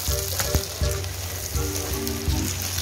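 Spam sizzles steadily as it fries in a pan until crispy, with a few louder clatters of stirring breaking through the constant hiss, no talking.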